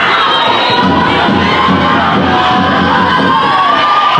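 A large school crowd cheers and shouts at an H3 hurling final between St Finbarr's Bantry and Scoil Eoin Ballincollig, loud, dense and continuous, with children's voices whooping throughout.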